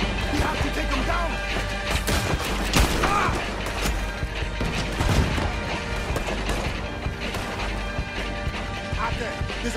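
Gunfire in the video game Red Dead Redemption 2, loud repeated shots and crashing impacts over a busy battle scene with people talking over it.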